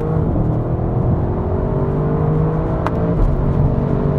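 An Audi RS6 V8 pulls hard through the gears on a road past a cyclist, a loud, steady engine roar with rising revs and a brief shift blip near the end.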